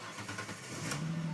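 A cold Ford Mustang engine cranks and catches, a brief mid-pitched mechanical rumble that settles into a steady low idle hum near the end, heard up close without talk.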